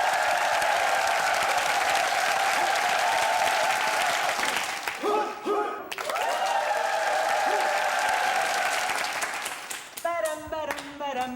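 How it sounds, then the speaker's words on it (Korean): A studio audience at a Korean military entertainment show gives loud, sustained applause to welcome an army unit's opera troupe. The clapping briefly dips and swells, and music and voices enter near the end. "여러분 큰 박수로 맞이해 주십시오"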